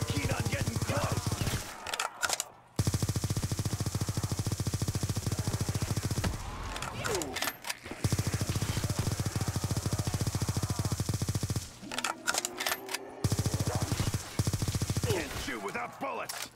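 Gunfire in a Call of Duty zombies video game rattles in long, loud automatic bursts broken by short pauses, with faint game sounds in the gaps.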